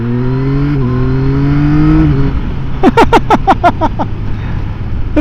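A 2024 Yamaha XSR900 GP motorcycle accelerating hard in second gear, its engine note climbing steadily and loudly, then a quick series of sharp, rhythmic bursts as the revs rise further.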